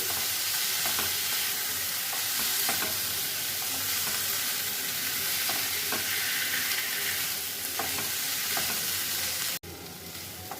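Mushrooms stir-fried in a pan while cooking mushroom dalna, with steady close sizzling and frying hiss, occasional scrapes and stirring clatter, continuing without talk until a brief cut near the end.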